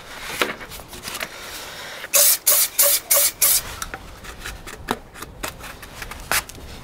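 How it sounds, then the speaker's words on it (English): A series of short, sharp hissing sprays from an aerosol can of silicone spray, about five quick bursts in a row, followed by a few fainter scattered puffs. "Silicone spray on there just makes it a little bit easier."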